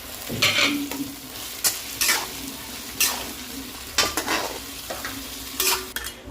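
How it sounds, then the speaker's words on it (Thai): Shrimp and blanched stir-fried vegetables being tossed and mixed in a pan for a Chinese-style dish, giving repeated scraping stir strokes over a soft steady sizzle, close and clear with no talk. "แล้วก็คลุกเคล้าผสมลงไป"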